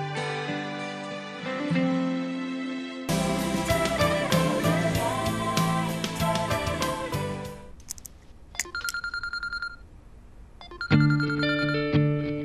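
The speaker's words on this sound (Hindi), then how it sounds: "किसका फोन है बाबा?" A telephone ringtone plays loudly in a tonal, repeating electronic pattern, breaking off briefly before resuming, with no talk over it.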